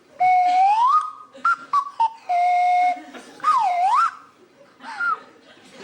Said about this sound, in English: a selection of fully renewable wind and calorie-powered woodland whistles to attract my attention